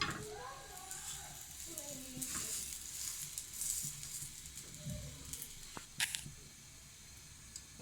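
Layered lachha paratha frying in oil in a pan, a soft, low sizzle with faint stirring and scraping sounds. A voice can be heard in the background.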